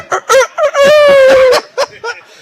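A man imitates a rooster crowing with his voice: short clipped notes build into one long, loud, strained crow near the mic, followed by a few choppy tailing syllables.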